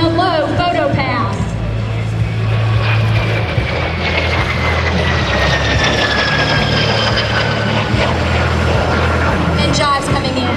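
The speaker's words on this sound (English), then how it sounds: "Also from the right in the blacktop aircraft, another single ship photo pass." A Morane-Saulnier MS760 jet aircraft makes a low single-ship photo pass at an airshow, a loud steady engine roar with a slowly shifting whine, heard under a commentator's voice.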